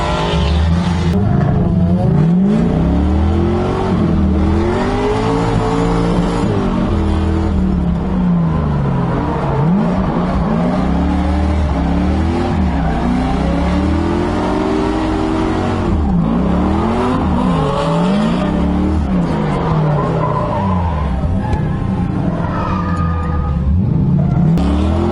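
Marco's Z drift car, driven by Luke Fink at a drift event, roars close and loud throughout with a continuous engine drone, repeated rising revs and tire squeals through sweeping slides, all with no talking.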